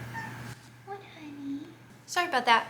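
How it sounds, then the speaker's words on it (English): Pet cat meowing from about 2 seconds on, a few bright close meows that overlap a voice speaking nearby. "So if you hear a few meows in the background,"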